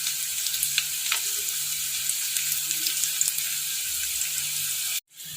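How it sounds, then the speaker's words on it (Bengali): Garlic, green chili and nigella seeds fry in mustard oil with a moderate, continuous hiss and scattered small pops and crackles. The sizzle cuts out sharply near the end, then resumes faintly. "রসুন আর এই যে কাঁচা লঙ্কা, এটা আমি সর্ষের তেলের মধ্যে লাল লাল করে ভাজবো।"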